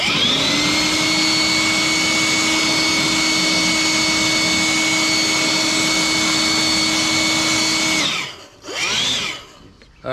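An electric vacuum pump drawing coolant from a Subaru engine whines steadily and loudly for about eight seconds, then cuts off, followed by a brief second whirring burst.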